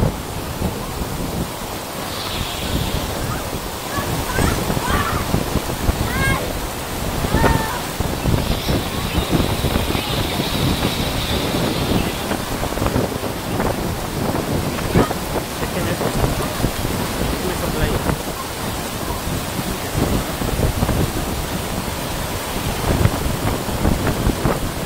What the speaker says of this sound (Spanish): Playa del Carmen está cayendo la lluvia muy machina